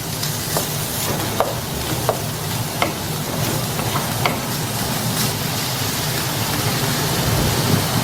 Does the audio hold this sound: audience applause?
no